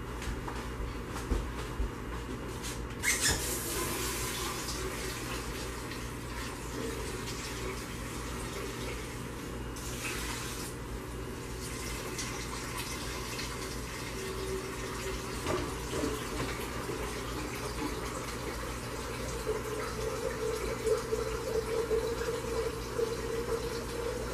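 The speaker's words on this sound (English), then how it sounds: "let me rinse this out for my stick blender" Tap water runs steadily into a sink while a stick blender is rinsed under it, a continuous close hiss and splash with occasional brief knocks and shifts in the flow.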